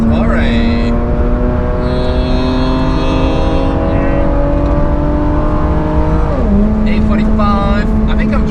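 Mercedes W124 AMG cabriolet engine on the Nürburgring, its note dropping sharply in a downshift after a sustained, steady drone, heard close and loud from onboard with people talking over it.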